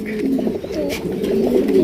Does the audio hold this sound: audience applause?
no